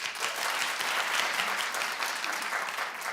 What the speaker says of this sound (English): Clap if you watch the Mick.